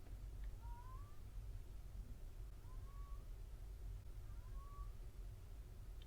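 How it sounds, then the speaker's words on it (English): Three short, thin meows spaced a couple of seconds apart, faint over a steady low background rumble. "That's a cat."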